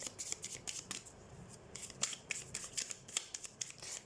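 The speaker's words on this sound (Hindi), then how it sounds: "सबसे पहले हम कार्ड शफल कर लेते हैं" A deck of cards being shuffled for a collective reading, with quick papery riffles and snaps in irregular bursts, fairly quiet and close, with no talking.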